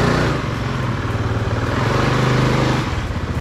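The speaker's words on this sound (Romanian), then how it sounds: "Dacă am mers cu 540, hai să mergem cu scooter." A Piaggio MP3 three-wheeled scooter rides through Madrid, its engine droning loud and steady close by, with constant road and wind rumble and no pauses.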